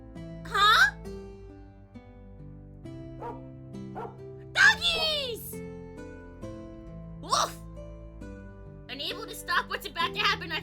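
Three large dogs in a castle-set video game bark and yip in a few sharp, separate bursts over sustained background music tones.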